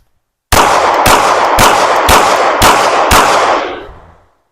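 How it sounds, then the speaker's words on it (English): Six loud, close striker-fired handgun shots ring out at a shooting range, evenly spaced about half a second apart at a deliberate pace, the last report fading into a short echo. "I'm going to shoot a little bit slow because I am getting used to the recoil impulse on this"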